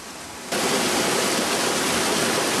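Whitewater rapids on the Lower Kern River during a rafting trip, a loud, dense rushing roar that starts abruptly after a quieter half second and then holds steady, no voices.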